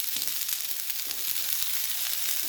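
Beetroot sautéing gently on a low flame in coconut oil for thuvaiyal gives a soft, even, continuous hiss and sizzle, close and quiet, with no one talking.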